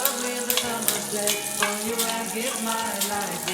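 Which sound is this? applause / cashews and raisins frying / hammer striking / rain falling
cashews and raisins frying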